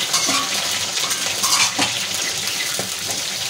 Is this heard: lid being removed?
yes